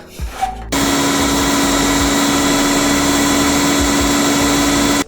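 A kitchen blender roars at full speed, puréeing kimchi sauce. After a brief clatter of loading, it runs as a loud, steady whir for several seconds without pause.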